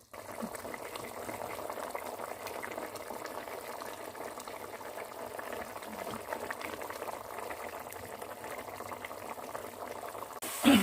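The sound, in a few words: aloo gosht meat gravy simmering in pot with water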